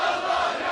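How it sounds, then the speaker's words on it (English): A protest crowd in Libya being warmed up by an Al Jazeera news crew before a live report: a dense, steady roar of many voices shouting together, loud and close, holding level for under a second. "here the Al Jazeera crew is warming up the crowd in time for their next live report"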